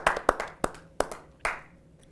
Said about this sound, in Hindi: जोरदार तालियों से स्वागत करें प्रीति अग्रवाल